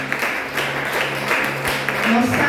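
A church congregation at a family worship service at Igreja Porta das Ovelhas applauds, steady mid-level clapping spread across the room with some voices mixed in.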